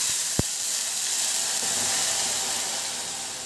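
Cooked urad dal poured into hot oil with reddened garlic tempering, one sharp crack and then a loud, steady sizzling hiss that fades only slightly, close by.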